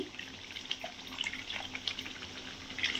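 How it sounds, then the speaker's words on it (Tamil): Water trickles and splashes steadily into a jar at close range, a soft continuous pouring with no talking. "ஜாரில் தண்ணி ஊற்றி"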